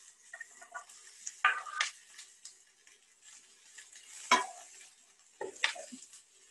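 Vegan burger patties frying in a pan with onions at a live outdoor cookery demo, with soft continuous sizzle broken by a few louder scraping stirs and clinks of utensils, no talking.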